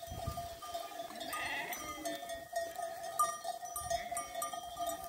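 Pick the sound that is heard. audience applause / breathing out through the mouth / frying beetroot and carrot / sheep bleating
sheep bleating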